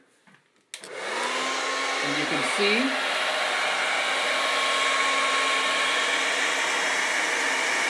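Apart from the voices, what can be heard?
hair dryer blowing hot air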